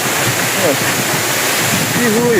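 Loud, constant wind buffeting the microphone over rushing water at a waterfall, with a brief exclamation from a voice partway through.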